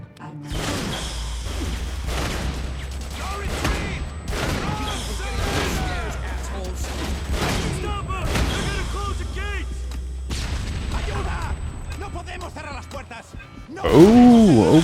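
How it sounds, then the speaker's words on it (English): Thuds of grenade explosions and bursts of gunfire fill a PS3 first-person shooter game Haze battle, repeated booms and shots continuing under someone talking over the action throughout. "you throw a grenade and there's other ones laying around that the enemies dropped, they all detonate."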